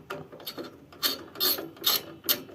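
Screws on a CPU cooler are tightened a little at a time in a crosswise order, making several quiet, close ratcheting clicks in short bursts with no talking.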